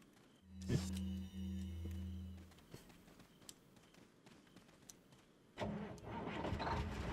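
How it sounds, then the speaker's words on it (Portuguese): A car engine in Resident Evil 4, a loud engine hum that cuts out after a few seconds, then quieter taps before a rougher engine roar returns near the end. "mas o carro não vai parar."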